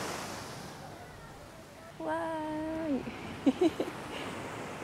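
Ocean surf along the shore at Itoshima in Fukuoka, heard as a steady wash of broadband noise throughout, with a woman's brief cheerful exclamation over it partway through.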